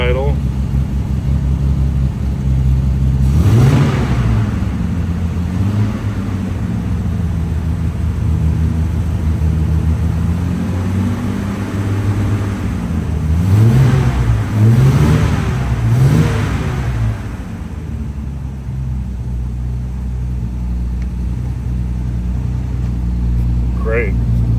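A 1962 Austin Healey 3000 BN7 engine runs at a high idle, rumbling steadily up close and swelling with a few short throttle surges.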